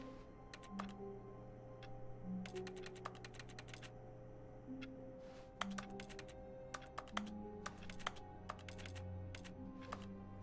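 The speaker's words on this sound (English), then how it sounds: "And it sounds like I'm touching the keyboard." Keyboard keys in The Stanley Parable click in quick irregular bursts of typing over a faint low hum, with short pauses between clusters of taps.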